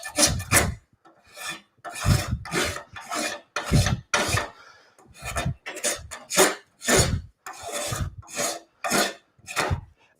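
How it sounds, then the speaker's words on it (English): Spokeshave shaving two high spots off a wooden workpiece, heard as a series of loud, close, crisp rasping strokes in a quick uneven rhythm, about a dozen passes with short pauses between. "if I grab my spoke shave real quick"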